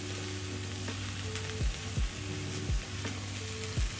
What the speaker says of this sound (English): As my green peppers cook, I'm going to add back my sausages in the pan.